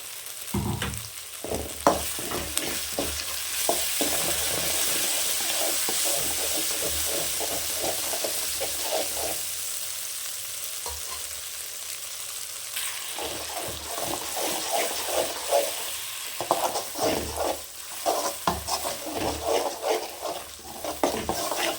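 Roasted masala sizzling and being stirred in hot oil for mutton curry, a loud continuous fry with scraping spoon strokes throughout and no voices.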